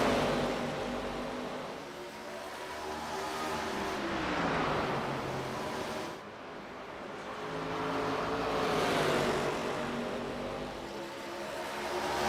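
Stock cars racing around Oswego Speedway, a continuous roar of engines swelling and fading as cars pass and circle the track, heard from a distance with no talk.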